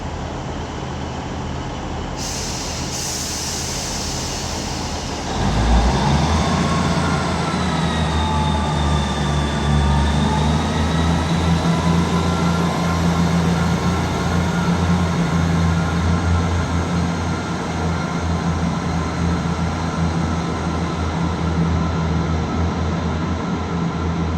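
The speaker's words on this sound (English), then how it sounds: "This Northern 158 departs Manchester Victoria with the 1355 Northern service to" Northern class 158 diesel unit 158754 pulling out of Manchester Victoria on a Wigan Wallgate service, its engine rumble surging loudly after a quiet start, then holding a steady drone with a rising whine as it accelerates away.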